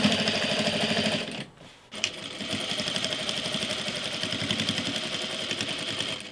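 A sewing machine top stitching denim jeans runs in a steady, rapid stitching rhythm, close and continuous, with one brief pause near the start before resuming at full pace.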